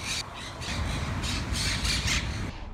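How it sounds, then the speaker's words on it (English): A flock of wild Quaker parrots in Edgewater, New Jersey, squawking in repeated harsh bursts, loud and close, over a steady outdoor rumble. "It's the sound of wild Quaker parrots,"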